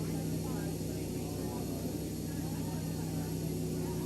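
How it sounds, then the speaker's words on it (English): Airliner engines idling steadily in Microsoft Flight Simulator 2020, a constant loud drone with tonal whine over broadband rumble, unchanging throughout with no speech. "all the engines are started up"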